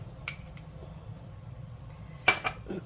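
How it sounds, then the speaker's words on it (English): A spoon works through a dessert mixture in a bowl as melted butter is added, giving faint soft stirring with two sharp clinks of utensil against dish, close and quiet, with no talk. "So you're just going to stir that together, and you can add your melted butter to it."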